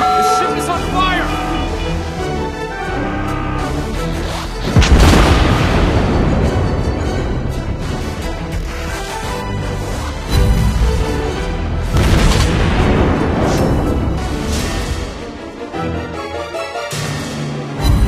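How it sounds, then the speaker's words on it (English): Heavy explosions and artillery fire ring out around a Japanese battleship, the Hizen, in World of Warships Blitz; loud booming blasts burst out repeatedly over a dense, continuous wash of game sound. "Attack! We're hit! The ship is on fire!"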